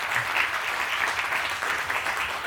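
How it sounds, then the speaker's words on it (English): Steady applause from an audience at a health system's ten-year anniversary ribbon cutting, a dense, even wash of clapping heard alone throughout. "let's give them another big, well-deserved round of applause"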